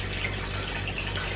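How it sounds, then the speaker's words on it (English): Water pours steadily from a siphon return on an aquaponics grow bed at a fish house on a farm in Chiang Rai, northern Thailand, a continuous close splashing flow with no talk. "The water coming out from the siphon."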